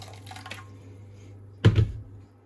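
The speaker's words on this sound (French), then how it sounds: "Je vais verser dans un plat de l'eau bien bouillante." Boiling water poured from a kettle into a baking dish, prepared for cooking a foie gras terrine in the oven: a short, close splash and gurgle lasting under half a second, following a quiet stretch of low kitchen hum.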